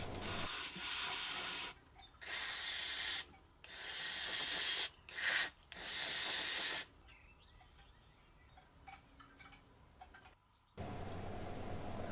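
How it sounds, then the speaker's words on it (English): Compressed air blasts clean a pump from a 43-year-old British garden tractor in several loud, close bursts of hissing air, followed by quieter rustling and handling noises. "I can use compressed air."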